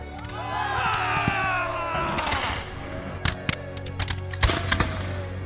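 Musket fire at a reenactment of the Battle of Bunker Hill, with colonists shooting from behind a rail fence: several sharp reports, some close together, cracking out over a continuous crowd-like din of voices and noise.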